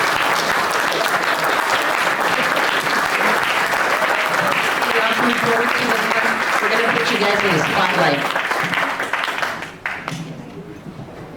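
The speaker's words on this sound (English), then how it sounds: "So now if we can join me so we can give them a round of applause." Loud, sustained applause from a crowd standing in a county commissioners' court meeting room for a group of boys, steady clapping throughout with a voice speaking over it, fading near the end.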